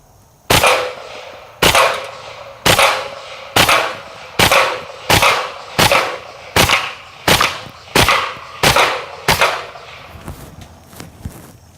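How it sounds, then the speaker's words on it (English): Kriss Vector fired outdoors at a beer keg with tracer rounds, about a dozen sharp, evenly spaced shots ringing loud and close in a steady semi-automatic rhythm, each with a short echoing tail, then fading quiet. "filled the gun up with tracer ammunition, and I'm hoping that as we shoot the keg, maybe we'll get to see some of those ricochets"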